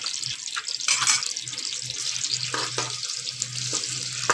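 About two tablespoons of garlic fry gently in a pan, giving a steady, bright sizzle close by with occasional light stirring clatter and no talk.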